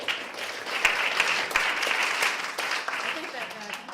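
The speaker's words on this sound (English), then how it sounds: "I think that clapping goes all around today." Audience applause at a university social science policy panel, a steady wash of clapping with a few sharper claps standing out, moderately close, lasting the whole moment.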